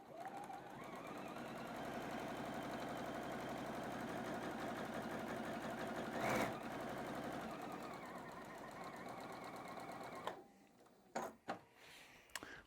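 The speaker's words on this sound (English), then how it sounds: "I'm going to go to the machine, and I'm really most focused on this bottom corner" A sewing machine stitches a quarter-inch quilting seam in a faint steady whirring run that lasts about ten seconds, then stops and is followed by a few light handling clicks.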